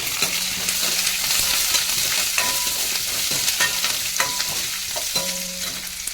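Coriander seeds and tamarind dry-roast in a pan with a steady, close crackling sizzle, broken by repeated scrapes and light metallic clinks as a spoon stirs them.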